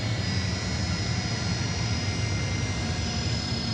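An Airbus A319 jet at Atlanta's Hartsfield-Jackson airport gives a steady, loud engine roar with a faint high whine, constant throughout with no talking.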